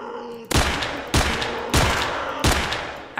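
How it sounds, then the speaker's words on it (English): Enemy gunfire in a horror video game: four loud, heavy bursts of shooting about every half second, each cracking sharply and trailing off into a long rumbling decay. "they shoot from far"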